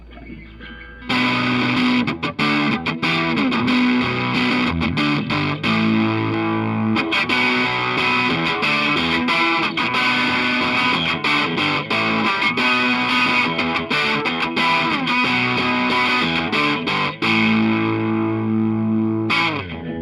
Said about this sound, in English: A wonderful distortion sound there.